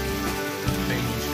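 Onions dropped into a hot wok for a beef chow mein, giving a loud, steady crackling sizzle like rain on a surface, close and continuous throughout with no talking.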